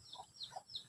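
A chicken gives three quick, faint clucks in a short rhythmic series.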